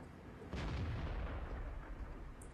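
A tank cannon fires in World of Tanks, a single deep boom that starts abruptly and rolls into a low rumbling decay, heard fairly faintly in game audio without talking.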